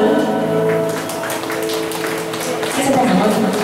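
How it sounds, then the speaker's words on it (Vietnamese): Audience applause at a Vietnamese club's first anniversary celebration, steady clapping over lingering music tones that swell slightly louder near the end. "Xin quý vị một tràng pháo tay lớn"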